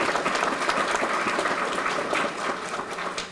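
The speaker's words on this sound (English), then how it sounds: "I think that deserves a round of applause." An audience at a STEM academy guest lecture breaks into sustained, dense clapping that continues steadily with no voices over it.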